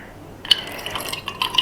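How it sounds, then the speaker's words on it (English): Water is poured into a Magic Flame humidifier, a faint trickle and splash that starts after a brief quiet moment and carries on steadily, close by and fairly soft. "Now let's pour some water inside and"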